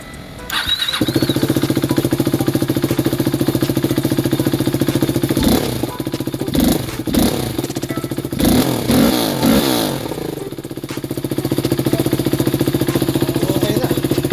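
KTM Duke 390 motorcycle after a throttle-response fix with a new Denso fuel pump, starting up and settling into a steady loud idle, then revved in several sharp bursts before returning to idle, close to the microphone.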